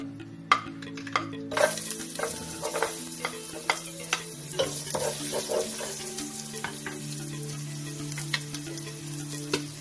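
Ginger sizzling in hot oil in a pan for batchoy, a bright continuous crackle with frequent sharp clicks and scrapes of stirring, close up, while a steady low hum runs underneath.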